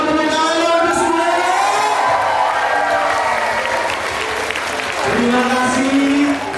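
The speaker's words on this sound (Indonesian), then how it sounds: "Boleh dong tepuk tangan untuk semua." An audience at a church choir festival bursts into loud, sustained applause with cheers and children's shouts mixed in, swelling again near the end.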